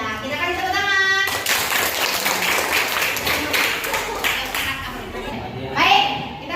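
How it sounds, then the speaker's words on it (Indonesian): An audience in a classroom bursts into applause after a student presentation, many hands clapping steadily for several seconds with children's voices mixed in and a voice speaking near the end. "kita kasih tepuk tangan"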